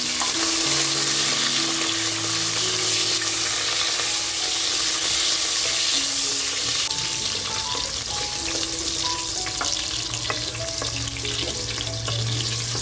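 Mutton fat fries in hot oil with bay leaf, black pepper and cloves, making a loud, steady close sizzle with continuous stirring throughout.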